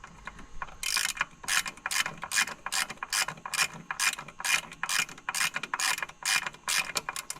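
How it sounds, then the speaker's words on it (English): A ratchet wrench tightens bolts on a gear reduction clutch kit for a Polaris RZR Pro XP, giving rapid close clicking bursts in a steady repeating rhythm, loud and alone with no talk. "I'll go get you the other ratchet"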